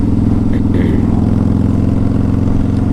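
A 2003 Harley-Davidson V-Rod in brushed aluminium, stock except for aftermarket pipes, idles close by with a loud, steady, throbbing low engine note and a faint mechanical clatter on top.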